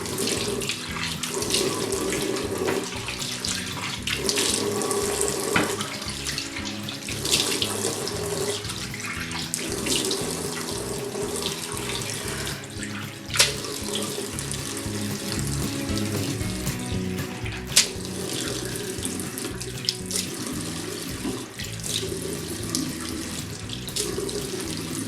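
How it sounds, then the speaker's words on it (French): Tap water runs steadily into a bathroom sink while a face is rinsed, a continuous close splashing wash with small shifts as hands move through the stream, no talking. "je vais venir rincer mon visage"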